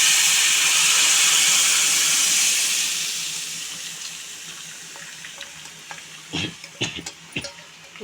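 Horse gram soup poured into a hot pan and stirred, a loud rushing pour that fades over a few seconds into quieter bubbling and scattered stirring clinks and scrapes, with no talking.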